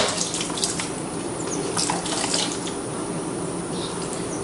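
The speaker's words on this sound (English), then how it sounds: "I should just take the fuel line off." Fuel drains from a disconnected carburetor fuel line into a container, a steady trickling, splashing flow heard up close and continuously without talk.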